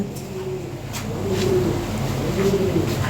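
A European Lahori pigeon coos close by, with several drawn-out, repeated coos over a steady background hum.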